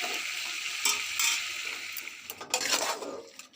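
Cauliflower curry cooking in a pan on a gas stove, a soft sizzle broken by a few brief scraping stirs, close and moderately quiet with no talk.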